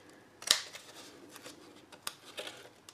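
Scissors snip along the edges of a handmade paper Valentine's card, one crisp close cut standing out early and followed by a few fainter trimming snips and paper rustles.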